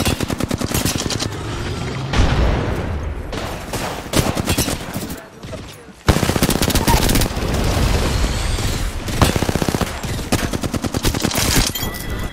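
Automatic weapon fire rattles through a round of Apex Legends in long, loud, rapid bursts with short pauses between them, and faint talk sits underneath.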